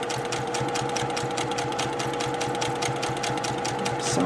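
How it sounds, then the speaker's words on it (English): A sewing machine stitches a quilt-as-you-go quilt block, running at a steady, rapid needle rhythm up close and uninterrupted for the whole stretch. "We're sewing."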